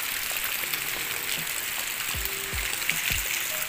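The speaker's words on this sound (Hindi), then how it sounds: "बारिश बहुत तेज़ हो रही है, बारिश बहुत तेज़ हो रही है" Heavy rain pours down in a village, a constant broad hiss of falling water with a few dull low thumps mixed in, close and steady throughout with no talking.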